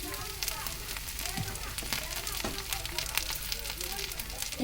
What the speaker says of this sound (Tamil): வெண்டைக்காய் போட்டு நல்லா வதக்கி எடுத்துக்கலாம்.